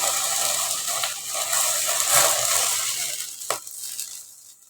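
Meat steam-roasted over an open flame barbecue-style, giving a steady broadband sizzle with faint stirring and a brief clatter near the end, fading slightly as it goes.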